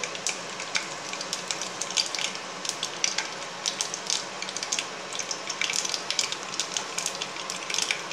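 Mustard and fenugreek seeds splutter in hot oil for a South Indian tamarind kuzhambu tempering, a dense close crackle of rapid popping bursts over a continuous sizzle, with no talking.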